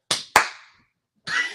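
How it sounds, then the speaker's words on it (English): Two sharp hand claps in quick succession, close and loud, followed after a short pause by a brief burst of noise, meant to switch off the lights in the old-school clapper way. "Let's do it old school and just clap."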